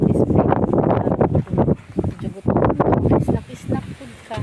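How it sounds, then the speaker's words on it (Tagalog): Strong wind blows in the Carabao Valley Hills, a loud, gusty roar buffeting the microphone and rising and falling in bursts, with a person talking over it. "Grabe na kay kakusog ang hangin"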